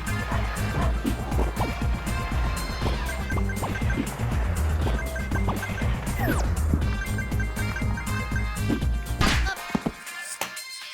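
Busy Subway Surfers mobile game audio: dense, continuous layered music and effects with crashes, whooshes and rushing sounds, loud throughout, cutting out into near silence in the final second.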